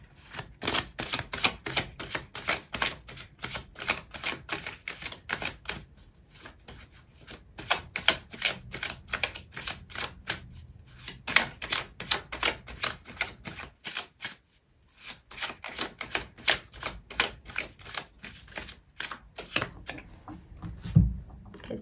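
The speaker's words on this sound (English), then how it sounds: "I'm going to pull out another card for you" Tarot cards riffled and shuffled by hand in a long run of rapid crisp flicks, with a few short pauses and a soft thump near the end as a card is pulled; close and fairly quiet, no speech.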